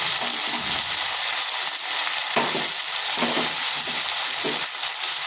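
Tomato and turmeric frying in a pan, a dense continuous sizzle with several stirring scrapes breaking through at irregular intervals.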